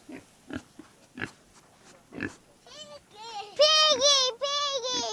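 Pigs at a farm, first short low grunts in a broken rhythm, then several loud squealing oinks near the end, close and clear.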